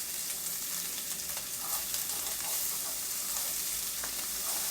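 Shrimp with butter for a New Orleans Cajun dish sizzles steadily in a hot pan. Soft stirring scrapes come through close by, with no voices.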